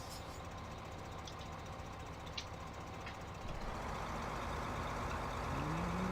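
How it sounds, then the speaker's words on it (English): Tractor engine in the Farming Simulator 15 video game on the Holzhausen map, a steady mechanical drone that grows louder and heavier partway through, with a rising tone near the end, and no talking. "let's go get our stump grinder tractor, our tree pusher over tractor."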